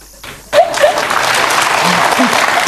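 Studio audience at a television talk show bursts into applause after a quiet moment, dense, loud clapping that holds steady to the end, with a few voices mixed in.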